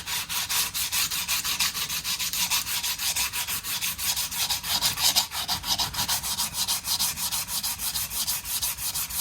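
Coarse 80 grit sandpaper rubbed hard and fast against wood on a 1985 Made-in-Japan Fender Telecaster-style guitar body, a steady rhythmic scratching of quick back-and-forth strokes, close and loud with no talking.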